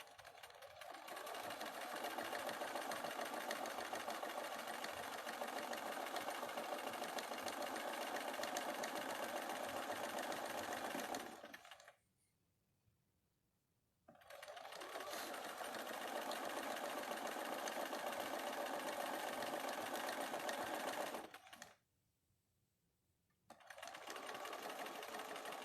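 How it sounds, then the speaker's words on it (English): A sewing machine stitching a straight seam runs in a steady, even whir for about ten seconds, stops briefly, runs again, pauses, then resumes, close and alone without talk. "Set it back up underneath your machine and sew straight."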